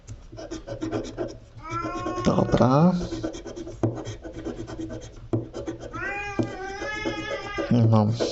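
A cat meows repeatedly, loud and close, with drawn-out wavering cries, alongside scratching sounds of scratch-off lottery tickets and a person talking.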